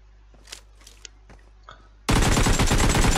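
Sudden dense burst of rapid automatic gunfire in a battle royale video game, loud and close, erupting after a quiet stretch of a few faint clicks and soft thuds and continuing without pause.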